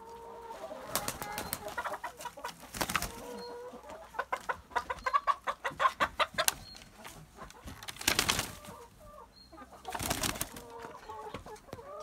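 Egg-laying hens cluck in a backyard coop, a cluster of close, bursty calls repeating irregularly with brief quieter gaps between them.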